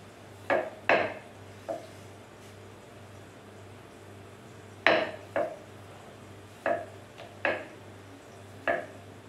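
A rolling pin working puri dough on a board: a few soft knocks and clacks in small irregular clusters, close and fairly quiet, with short pauses between them.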